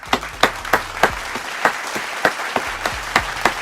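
Applause from a crowd, with sharp claps standing out over a steady wash of clapping, fairly close and lively throughout.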